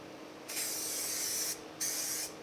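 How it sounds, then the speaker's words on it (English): A spray gun lays black primer onto the frame and firewall of a 1965 Chevrolet Malibu SS in two close, loud hissing bursts, the first about a second long and the second shorter, with a brief pause between them. "let's jump in here and get this stuff sprayed on"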